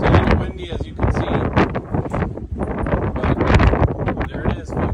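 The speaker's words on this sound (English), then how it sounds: "It's a little windy as you can see." Gusty outdoor wind beside a Weber kettle grill cooking a pork butt, rough bursts of buffeting against the microphone under a man's speech.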